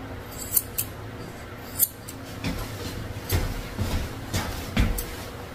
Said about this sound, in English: Comb it all forward and trim her eyes round.